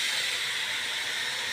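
Meat with onions layered on top frying in a pan, a loud, steady, close sizzle with a broad hiss and no pauses.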